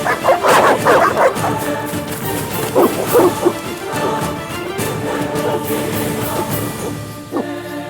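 Dogs barking in The Witcher video game: several loud, close bursts of barking and yips, clustered at the start and again midway, over steady game ambience.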